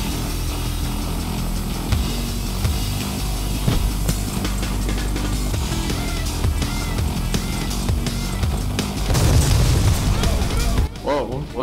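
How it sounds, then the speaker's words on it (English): An explosion during a Payday The Heist bank job, a deep rumbling boom swelling late in the clip amid continuous gunfire and game noise, with players talking over it. "Something blew up."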